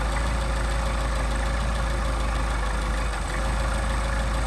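A Mercedes 190SL engine with Solex carburetors idles, giving a steady, loud, close-up mechanical rumble with an even low throb and no voices.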